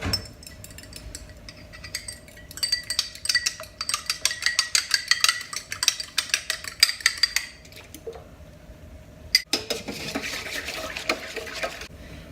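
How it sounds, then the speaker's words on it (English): Two eggs are beaten in a bowl for apple fritter batter, giving a fast run of light clinks and taps against the bowl, with a brief pause and then more mixing noise. "Now I'm gonna just beat up my eggs a little bit and add them to the mixture"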